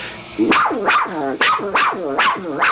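A voice actor imitates a female dog, delivering about six loud, close yapping barks in a steady rhythm for a 1981 Spider-Man cartoon, with no other sound.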